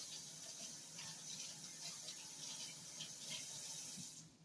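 Small apples rinsed under a running kitchen tap, a steady broadband rush of water pouring into a sink with slight splashing variation, close and continuous before cutting off near the end.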